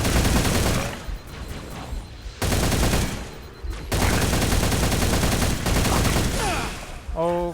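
Heavy automatic gunfire from a firefight in Halo Reach, long loud bursts broken by short pauses, with a brief electronic chirp at the end; no one speaks over it.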